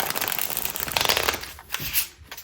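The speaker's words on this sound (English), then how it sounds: "I need to do one more shuffle" Tarot cards are shuffled in a close, continuous papery rustle that swells with a few louder riffles before slowing into brief scrapes and taps.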